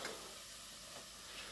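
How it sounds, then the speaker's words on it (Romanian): Chopped onion frying in a pan at home, a soft, steady sizzle and hiss running continuously at low level with no talk over it. "Am prăjit ceapa puțin, deci nu mult, puțin, reducem temperatura."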